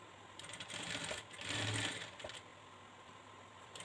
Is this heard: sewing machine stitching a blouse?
yes